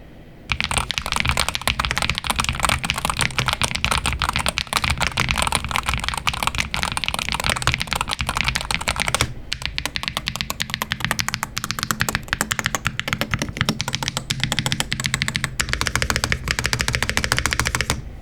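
Rapid, continuous clacking of keys on a Pulsar PCMK 2 HE TKL rapid-trigger keyboard, loud and close, with dense bursts of strokes and a brief pause midway.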